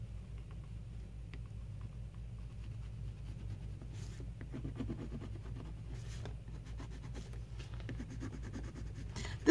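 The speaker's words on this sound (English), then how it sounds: "going around all my focal points first with this watercolor pencil" A watercolor pencil scratches and scribbles across paper in soft, continuous close strokes, faint over a low steady background hum.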